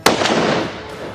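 A single loud gunshot fired at a charging wild boar during a hunt, a sharp close crack followed by a quick echo and a rolling decay through the surroundings, with no voices.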